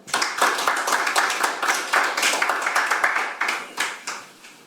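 A conference audience at a National Assembly policy forum on wildfire response claps for a keynote speaker, with a moderate crowd of distinct hand claps that keeps an uneven rhythm and gradually fades near the end.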